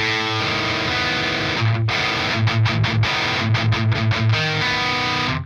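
Heavily distorted electric guitar power chord with an open-string root ringing out, then a series of short, chugging palm-muted stabs in a choppy rhythm, loud and close.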